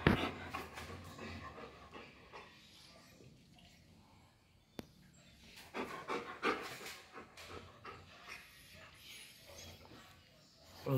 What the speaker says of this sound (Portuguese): O Zé Labrador